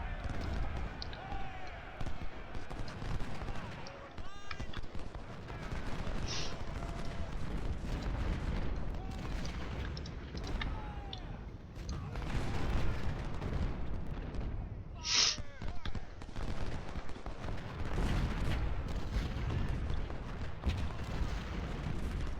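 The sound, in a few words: cannon fire in video game Ultimate General Civil War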